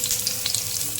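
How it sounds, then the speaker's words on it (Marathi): A piece of ginger and chopped onion fry in hot oil with a loud, dense, continuous sizzle, close by and alone, with sharp spatters throughout. "आतां हांव हितूर घालता इल्लोसो आल्याचो कुडको आनी आमचे चॉप केल्लेले ऑनियन"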